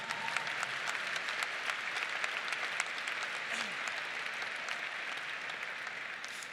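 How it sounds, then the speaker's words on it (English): Steady applause from a sizable audience at a university commencement, a dense patter of many hands clapping continuously at an even level with no talking over it. "a round of applause for poetry"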